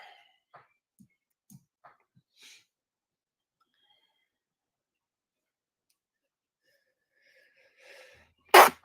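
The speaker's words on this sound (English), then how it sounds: "Oh, geez, I keep sneezing." After long near-silence with a few faint ticks and clicks, a single sharp sneeze bursts out close by near the end.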